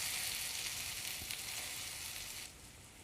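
Stuffed okra frying in a pan, a steady hiss of sizzling oil that holds evenly, then drops to a quieter simmer near the end.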